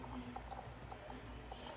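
A horse trots in the video game Star Stable, its hooves giving a soft, steady clip-clop rhythm, faint and even throughout.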